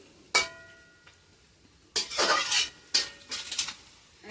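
A utensil scrapes and clanks against a metal pot while chicken is stirred into masala, three distinct bursts of stirring separated by quiet pauses, close and clear with no talking.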